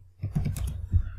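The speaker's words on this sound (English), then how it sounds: "Go to Google, type here Master the Mainframe" A few keys tapped on a computer keyboard, a brief close cluster of soft clicks and thumps with no talk over them.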